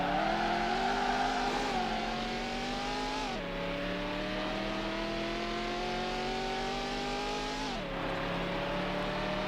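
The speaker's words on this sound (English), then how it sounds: "shifting up into 5th gear" A race car engine in Need for Speed: Hot Pursuit 2 drones at high revs, its pitch climbing steadily and dropping sharply at two gear shifts before rising again, loud and continuous with no talking.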